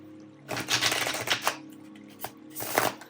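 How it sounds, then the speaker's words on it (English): Crisp riffling bursts of tarot cards being shuffled, two main flurries with a pause between, close up and fairly loud. "Okay, I'm hearing shuffle again."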